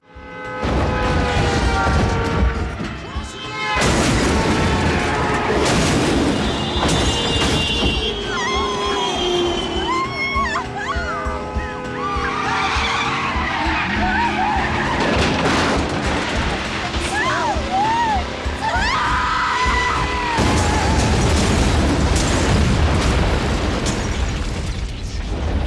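A possessed car races, crashes and explodes in a Ghoulies film, with loud booms, bursts and rumbling mixed with music and shouting voices throughout.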